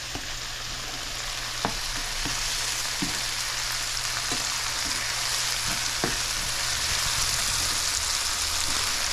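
Onion and tomato fry steadily in a pan over medium heat, a dense, even sizzle with a few soft clicks of a utensil, close and continuous with no talk.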